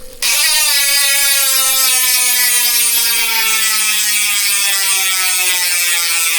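A Speed 1 Sniper bicycle rear hub buzzes loudly as the wheel freewheels, a fast continuous ratcheting clicking that slowly drops in pitch as it spins down.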